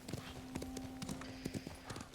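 A horse's hooves clip-clop in a steady, quick rhythm in the Ghost of Tsushima video game, fairly quiet, under a faint sustained tone and a soft voice.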